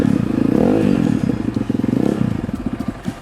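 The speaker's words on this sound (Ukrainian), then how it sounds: "Слухаючи рев мотора цього звіра" A Spark SP300P-1 enduro motorcycle engine roars close by, revving up and then settling into a throbbing, pulsing idle.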